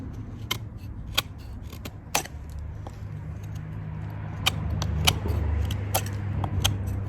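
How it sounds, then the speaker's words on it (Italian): Fox Vesuvius and Cudeman 148 B knife blades shaving a piece of wood, heard as scattered sharp scraping snicks at an uneven pace over a low steady background hum. "vediamo che morde bene il legno e riesce a fare anche dei buoni trucioli"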